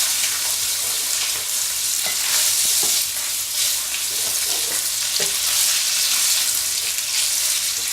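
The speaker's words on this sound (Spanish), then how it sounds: "Y ahora los espaguetis, que como veis aún están calientes, y los mezclamos con cuidado." Warm cooked spaghetti stirred gently in a pan, a steady bright sizzle running throughout with soft scraping and stirring knocks scattered across it, close and fairly loud, no voices.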